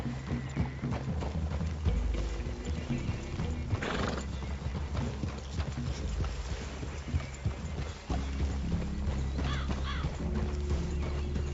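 Horses in Red Dead Redemption 2 walk with steady, rhythmic hoof clip-clops and an occasional whinny, set against constant outdoor ambience with soft low rumbling underneath.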